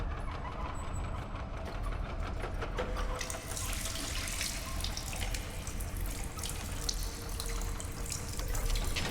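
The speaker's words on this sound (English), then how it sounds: "The sink. There's just water coming from it." Water runs steadily from a sink in the video game Stasis, a continuous hiss with a low rumbling ambient drone underneath, moderately close and alone without talk.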